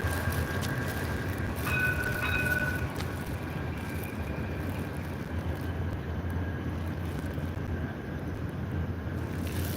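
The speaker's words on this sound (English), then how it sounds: "We got the free choo-choo train out here." A free city train rolls past on its tracks late at night around 11 p.m., a steady, loud rumble and rattle of wheels and cars that fills the whole stretch with constant noise, with no talk.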